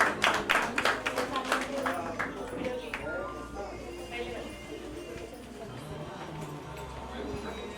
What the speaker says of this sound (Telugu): ఒకసారి గట్టిగా క్లాప్స్ ఉంటే బాగుంటుంది